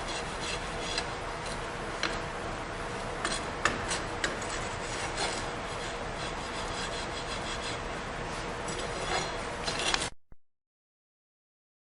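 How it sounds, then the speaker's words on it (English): A steel bar scrapes across packed sand to strike off the top of a sand-casting flask, giving a steady, continuous rasping drag with faint ticks, close and fairly loud, ending abruptly in silence near the end. "we're just using a steel bar in order to strike off the top of the box or flatten it out"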